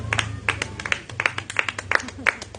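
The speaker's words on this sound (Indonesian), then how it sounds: "Tepuk tangan untuk Tuhan Yesus ini" Scattered hand claps from a church congregation during a worship gathering, a handful of separate, fairly close claps spread irregularly over a low background hum, with no voices over them.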